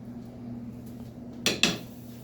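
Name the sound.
cooking vessel being washed and placed on stove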